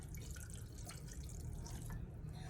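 A small amount of water is poured into a pot of paksiw being prepared for cooking, giving a faint, steady trickle and splash over a low background hum.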